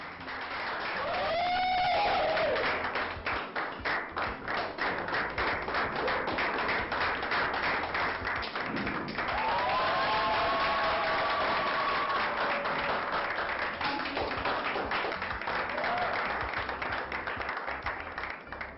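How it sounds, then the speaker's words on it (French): Sustained audience applause for the crowned winner of a beauty-style competition, loud and continuous, with a few whistles and cheers rising above the clapping. "encore plus d'applaudissements pour notre gagnante."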